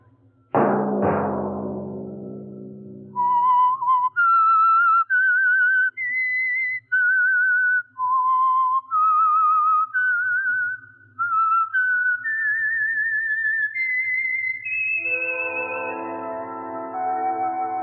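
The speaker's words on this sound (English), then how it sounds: "Let that whistle be your signal each Sunday for the Signal Oil program, The Whistler." Solo whistler performing the signature tune of the radio program The Whistler, preceded by a couple of sharp percussive hits, then a clear, close melodic line of sustained notes rising and falling alone.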